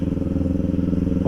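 A 400cc motorcycle rides close by with a loud, steady, throbbing engine note that holds for the whole moment.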